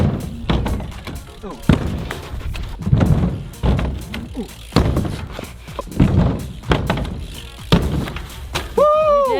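A mountain bike lands a half cab on a backyard jump box ramp, making a run of heavy thuds and hollow knocks close by. A voice exclaims between the impacts.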